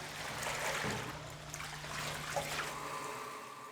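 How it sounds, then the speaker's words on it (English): Water trickles and gurgles as an instrument-cleaning bath is emptied, a soft continuous draining flow with faint splashes and a low steady hum underneath, fairly quiet and with no voices. "Empty the bath."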